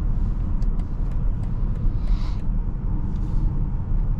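A 2024 BMW X5 M60i merging onto a highway, with a steady low road and engine rumble throughout and a faint passing swell midway, no voices.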